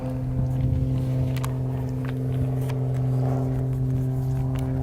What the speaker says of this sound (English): You can hear the flying wires singing there, and the prop and the engine combination howling.